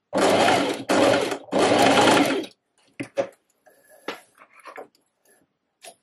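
A sewing machine stitches a dart in a reversible button-front dress, running in three loud, close bursts of rapid whirring, followed by quieter clicks and thread-handling rustles.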